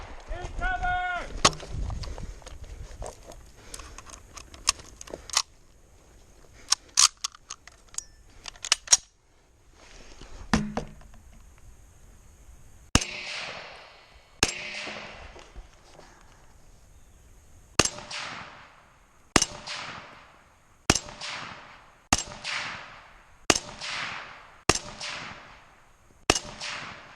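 An SKS military surplus rifle fires about a dozen loud, sharp shots outdoors, each with a ringing echo. The first few come in a scattered burst, and a steadier run of evenly spaced shots follows.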